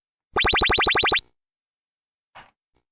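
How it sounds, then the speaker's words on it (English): A Commodore 64 futuristic ray gun sound effect: a loud electronic zap with a rapid buzzing pulse lasts about a second, followed after a pause by a short fainter burst. "A few of them I even found to be game-worthy, such as the futuristic ray gun"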